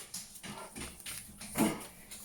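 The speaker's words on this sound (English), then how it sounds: "And sorry about the dog." A next-door dog barks and whimpers from the back garden, a steady run of muffled yelps and whines heard from a distance through the house.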